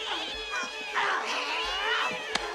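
A cat in the 1992 horror film Sleepwalkers lets out drawn-out, wavering meows and yowls, loud and continuous, with a sharp click near the end and no clear talk.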